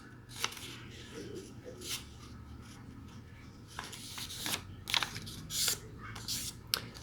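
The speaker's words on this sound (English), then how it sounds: "We're going to fold the paper in half along its edge" Origami paper rustles and crinkles as it is folded and creased by hand, making soft scattered crisp swishes and rubs, close and fairly quiet.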